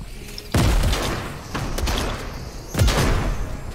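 Grenade blasts in a multiplayer shooter game: two or three booming explosions with sharp onsets and rumbling tails, loud and close, separated by a few seconds of lingering noise.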